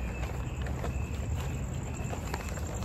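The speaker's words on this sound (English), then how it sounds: "we can hear the" Crickets chirp at night in a quiet, late-hour outdoor setting, a steady high-pitched trill that continues throughout over a low, constant background hum.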